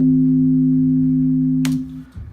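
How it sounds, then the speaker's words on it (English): Whistly FM synth bass playing dry without a compressor, a steady sustained low tone that holds for about two seconds before cutting off with a brief click. "he uses like an FM bass and it's got a kind of whistle to it"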